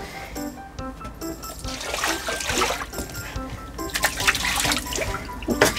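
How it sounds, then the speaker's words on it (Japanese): Water rinsing a balcony floor during cleaning, a steady broadband splashing and running flow that builds and surges in waves, close and fairly loud. "次は水で流していきたいと思います"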